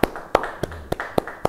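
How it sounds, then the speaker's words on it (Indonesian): Church congregation at a Bible study clapping slowly and rhythmically: six distinct sharp claps spaced evenly about a quarter second apart, close and fairly loud over a quiet hall. "Yang suka, beri tepuk tangan bagi dia."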